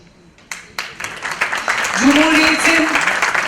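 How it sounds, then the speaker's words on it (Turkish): An audience at a Turkish art event honouring women painters claps for an artist, the applause building from scattered claps into steady clapping, with a voice speaking over it partway through. "Bir kez daha alkışlayalım mı sanatçımızı?"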